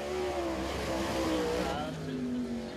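A race car exits turn four at Thunderhill Raceway during a qualifying session, its engine a steady sustained drone with shifting pitch as it accelerates, moderately distant, beneath a commentator's voice.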